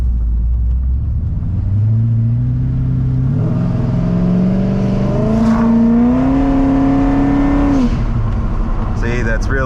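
A C5 Corvette revs hard and accelerates, engine pitch climbing in rising harmonic sweeps with tires spinning, loud and close, over a steady rumble and background noise.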